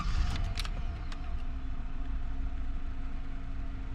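A 1994 Buick Roadmaster with about 103,000 miles settles into a steady, even idle after a brief start, a low continuous engine hum close by with no talk.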